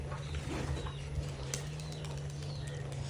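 Pigeons kept by a fancier on a rainy day give a low, steady cooing under a constant background hiss, with faint scattered chirps and no talk.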